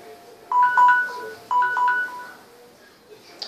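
A phone restarting plays a short melodic chime of a few bright tones in two phrases, fairly loud and clear, then fades to quiet.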